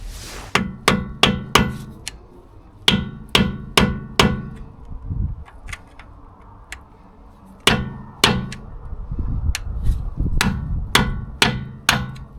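Hammer strikes tapping out a wheel hub part on a Mercedes SL R230 with anti-corrosion paint, sharp metallic blows in loose clusters of two to four, loud and close, with pauses between bursts.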